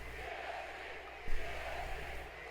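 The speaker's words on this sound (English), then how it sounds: "The crowd chanting EST," A wrestling arena crowd in WWE 2K22 chants, a broad rhythmic roar of massed voices with a brief thump partway through, steady and filling the space.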